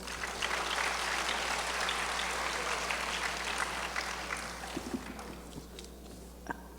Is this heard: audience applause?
yes